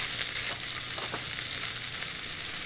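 Potatoes fry in bacon grease in a single skillet, giving a steady, close sizzle with faint crackles and no voices.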